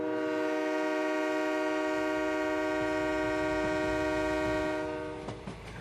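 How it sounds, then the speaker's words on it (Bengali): A train horn sounds one long, loud, steady blast that lasts about five seconds and then cuts off, leaving a low rumble and a few clanks as a passenger train pulls out toward Bongaon. "কিছুক্ষণের মধ্যেই ট্রেন এসে গেল।"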